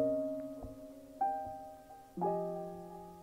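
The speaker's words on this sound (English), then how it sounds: "I just brought in this piano sample from Splice." Dissonant piano sample with seventh chords, three soft sustained chords struck roughly a second apart, each ringing and fading, quiet and alone.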